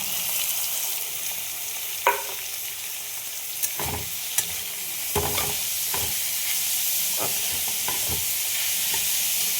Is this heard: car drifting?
no